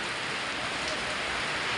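Steady rain pours outdoors after a night-long downpour, a dense, even hiss of falling drops with no pauses, fairly loud and close, no voices.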